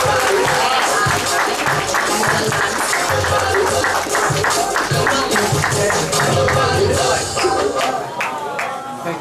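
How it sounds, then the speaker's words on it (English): An audience at an event in Waikiki, Hawaii applauds steadily and loudly for about nine seconds. The dense clapping holds even throughout, with faint crowd voices mixed in, and thins slightly near the end. "give him a big, big round of applause"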